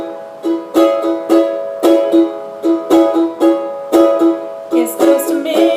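Strummed ukulele chords play a riff in a steady, driving down-up rhythm, each stroke bright and punchy, performed solo up close without any singing or talk.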